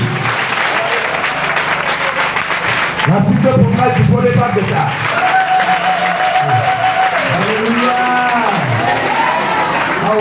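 Church congregation applauding and cheering at a service, a steady wash of clapping from a large crowd with voices and shouts rising over it, close and full throughout.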